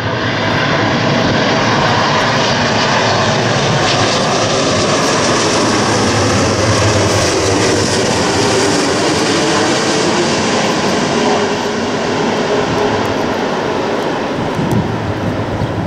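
A Cathay Pacific heavy jet lands on runway 23, its engines a loud, sustained broadband roar that holds steady throughout, heard from fairly close with no talk.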